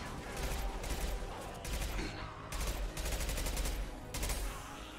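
Rapid, sustained automatic gunfire in Mass Effect's Omega mission, several dense bursts separated by short gaps, loud and close, with no talking.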